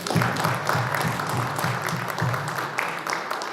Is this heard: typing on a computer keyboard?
no